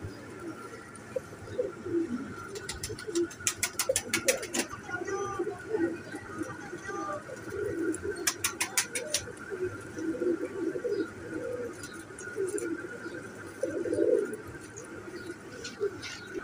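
A paired couple of Royal Teddy pigeons coo softly and repeatedly at close range, low rolling calls carrying on under steady background chatter, with a few sharp rattling clicks in between.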